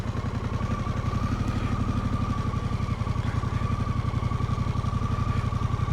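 A motorcycle engine idles steadily in a low, even putter while the bike is turned around on a scenic drive in West Auckland, close and continuous with no talking.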